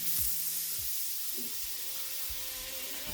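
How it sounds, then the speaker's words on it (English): Butter sizzling in a very hot pan before beef goes in, a steady close hiss of frying with a few faint clinks of utensils. "Put me a little butter in here. See, it's getting real hot."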